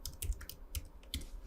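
A web address typed on a computer keyboard: a quick, soft run of key clicks in an uneven rhythm, close by and fairly quiet.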